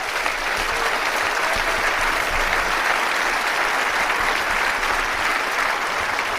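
An audience breaks into sustained applause at a public event, a dense, even wash of clapping held at full strength from start to finish with no voices standing out.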